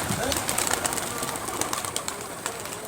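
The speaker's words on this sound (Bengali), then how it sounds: "এই এক জোড়া গিরিবাজ দেখাচ্ছে আপনাদেরকে" A pair of Giribaz pigeons coo softly and continuously, close by, with throaty rolling calls over a steady background hiss and some faint rustling.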